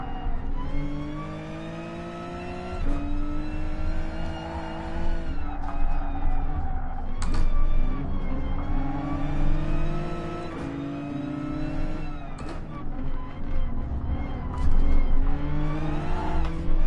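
A Hyundai Genesis race car on the Nordschleife in Gran Turismo Sport, its engine revving and shifting in repeated rising pulls with sharp gear-change breaks, loud and continuous with faint tire noise and no talking.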